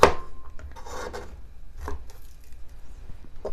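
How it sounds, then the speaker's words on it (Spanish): A knife chops garlic into medium pieces on a board, a few sharp close cuts and scraping rasps spaced irregularly, fairly quiet, with no speech. "vamos a comenzar a partir nuestro ajo y lo cortaremos en trocitos medianos"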